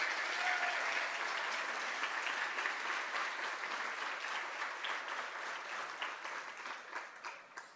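An audience at a breakfast event applauds honorees with steady, dense clapping that carries on for several seconds and then begins to thin out and fade.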